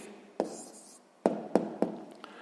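An answer to a sixth-grade maths exercise is written down by hand, heard as several short, close scratches and taps of pen on paper separated by brief pauses.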